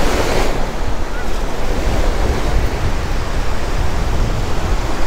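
Ocean waves break steadily on a Florida beach, a continuous loud wash of surf with some wind rumble and no voices.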